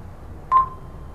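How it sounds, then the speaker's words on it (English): A Clarity Fortissimo voice-activated hands-free speakerphone dialing a stored number, giving one short clear DTMF tone burst alone over faint line hiss. "And now the phone will dial out."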